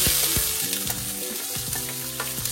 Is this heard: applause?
no